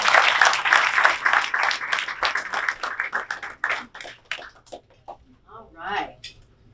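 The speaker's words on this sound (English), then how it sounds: "let's give everyone a great round of applause for all these kids." Audience clapping at a student of the year ceremony, a brief round of applause that starts strong and thins into scattered claps, with voices talking over the tail end.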